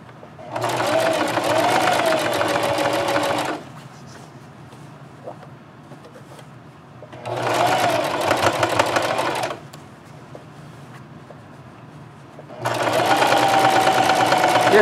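A sewing machine runs a close-to-the-edge stitch of average length along a scrub cap made from fat quarters, in three loud bursts of steady whirring separated by quiet pauses.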